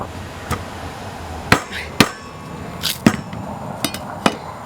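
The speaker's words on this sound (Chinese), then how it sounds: "我直接切成2半洗" A knife chops a freshly dug, muddy sweet-potato-like root in half outdoors: about eight sharp, separate thwacks come at uneven intervals, close and fairly loud, with no talking.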